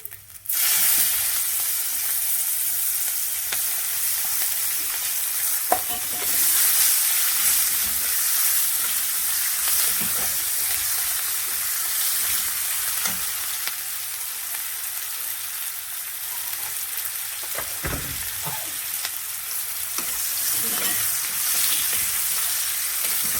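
Chopped onion sizzles loudly in hot oil with five-spice (panch phoron) in a pan, a steady crackling hiss throughout with occasional stirring clatters and no talking.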